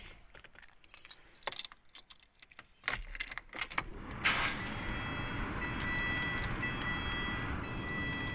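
Metal keys jangle and clatter in a series of sharp clicks near the microphone, followed by a steadier hum and faint beeping from a car that has been sitting unused for months.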